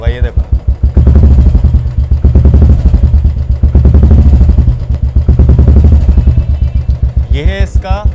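A Royal Enfield motorcycle fitted with a Swagman silencer thumps loudly up close, the throttle blipped in repeated revs over a rhythmic idle, with a voice talking over it.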